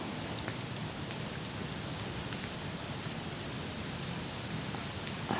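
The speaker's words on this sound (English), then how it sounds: "This rain made the leaves so quiet." Soft, steady rain patters on leaves in Kentucky woods, an even, faint hiss of countless drops with no voices or other sounds.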